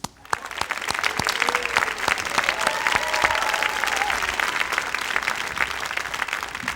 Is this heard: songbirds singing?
no